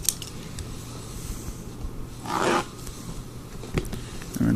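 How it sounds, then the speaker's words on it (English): Scissors snip into the packaging of a Gatecrash fat pack of trading cards, with a short crisp cutting burst near the middle and a quicker snip toward the end over quiet room noise. "Just grab my scissors."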